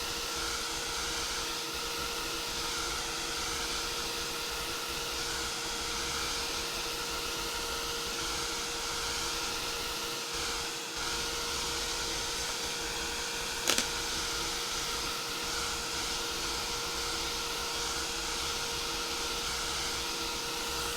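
A heat tool blows a steady, loud whirring hiss nonstop while drying Distress Oxide ink on paper, close up, with one sharp click partway through.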